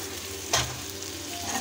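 Boiled chowmein and vegetables frying in a pan, a steady close sizzle with one brief scrape or toss near the start, no voices.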